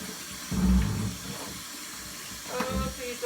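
Water rushes steadily through a carpet cleaner hose into a sink, a continuous close splashing flow that swells briefly at the start and again near the end.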